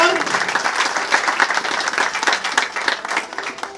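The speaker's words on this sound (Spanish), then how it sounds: "Fuerte el aplauso, por favor" Loud crowd applause at a municipal inauguration of a school kitchen and dining hall, dense clapping with rising and falling surges and voices mixed in beneath it.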